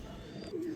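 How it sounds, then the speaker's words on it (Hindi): Breeding pigeons of a dub-type show variety, kept by a fancier, give a low, steady coo, with a rising hum in the last moments, close to the microphone. No speech can be heard. "नेक्स्ट ये आ गया बड़ा कबूतर, इसका आपको शौक करवाते हैं"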